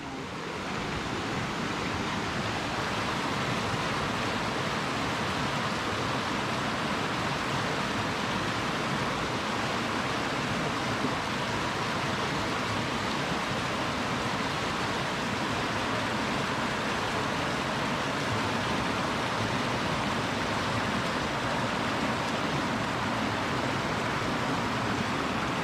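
Loud, steady broadband rush of a big creek at a backpacking trail crossing in the Great Smoky Mountains, a continuous roar of water with no letup and no voices.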